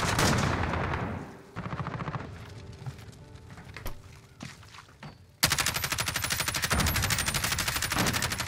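A gun fires in a video game, bursts of rapid automatic shots, then quieter scattered shots and clicks, then a loud dense stream of fire through the final seconds.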